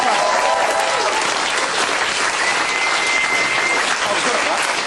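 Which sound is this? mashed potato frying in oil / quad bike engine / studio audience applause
studio audience applause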